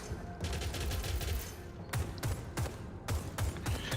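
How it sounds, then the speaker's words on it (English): A Gatling gun firing in the video game Deadzone: Rogue, a long sustained burst followed by several shorter rapid bursts separated by brief gaps, moderately loud and steady. "I've got a Gatling gun, boys. I'm gonna go through ammo crazy fast."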